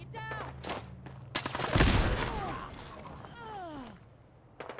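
Frag grenades going off in Fallout 4 Survival Mode at Nuka World, a loud burst of blasts and crackling debris in the middle of the stretch, with combat noise and creature cries around it.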